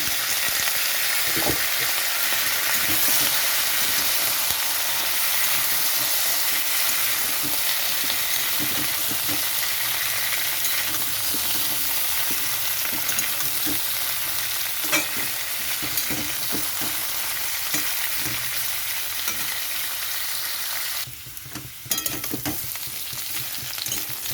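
Papaya and potato fry in a wok with cumin seeds and green chilli, a loud steady sizzle with intermittent stirring scrapes and clicks throughout, the hiss dipping briefly near the end.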